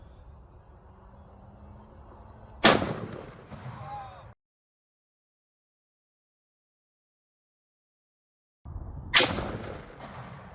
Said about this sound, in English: That's a loud gun.